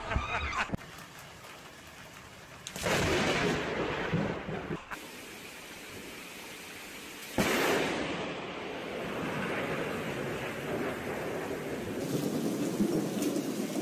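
Thunder rumbles in bursts over steady heavy rain during a rainstorm, with two loud rolling cracks separated by the constant hiss of rainfall.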